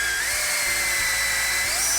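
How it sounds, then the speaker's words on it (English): A power drill spins a piece of Scotch-Brite inside the caliper guide pin holes during brake service on a 2009 Volkswagen Routan, giving a steady high-pitched whine with shifting tones that runs loud and unbroken for the whole clip. "Piece of Scotch Brite on a drill bit. It just fits inside the caliper guide pin holes."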